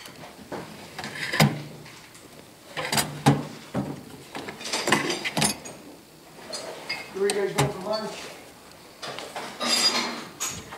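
Tool drawers in a machine shop slide open and shut several times, with metallic clatter and clinks of hand tools such as wrenches between them, while someone talks throughout.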